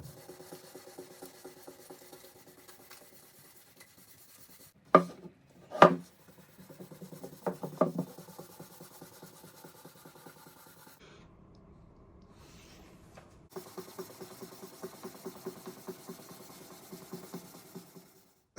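A finish on a rare Tama Superstar split-lug 14x8 snare drum being rubbed down with abrasive, giving soft repeated rasping strokes with a few sharper scrapes in the middle, close and quiet, with no voices.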